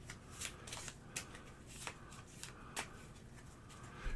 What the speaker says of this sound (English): I'm going to actually shuffle this.